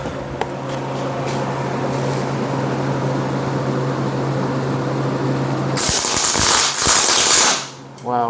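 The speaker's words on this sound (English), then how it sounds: "fire up the welder, and let's see what happens." Arc welding on a Vevor lifting magnet crackles and sputters steadily under a low electrical hum, then flares into a louder, harsher burst of spitting sparks before cutting off.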